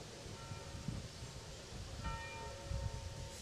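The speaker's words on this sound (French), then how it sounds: "les cloches de l'église sont venues perturber Patrick Colomna." Church bells ring steadily at a distance, outdoors during a pétanque match, over a noisy background of crowd and outdoor sound.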